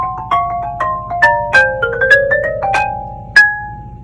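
Bright wooden bar tones ring out from a xylophone, struck one after another in a quick melodic run, each note decaying quickly, played up close.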